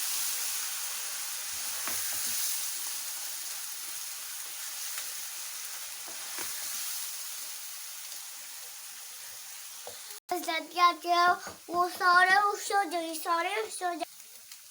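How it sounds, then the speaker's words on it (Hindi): Onions fry in a pan for handi kabab with a soft, steady sizzle and a faint hiss, and occasional light stirring taps come through. Near the end a person starts talking over the frying. "और साथ ही इसमें अब हम ये प्याज डाल देंगे। इनको भी अब हमने गोल्डन ब्राउन कलर देना है प्याज को।"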